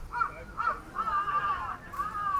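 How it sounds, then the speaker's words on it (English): Crows in Japan give an unusual, nasal cawing call, several strained calls in quick succession at moderate distance over faint street background. "I have never heard a crow make that sound before."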